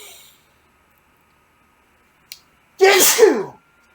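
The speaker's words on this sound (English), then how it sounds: "I'm about to sneeze." A single loud, close sneeze erupts after near silence, preceded by a faint click.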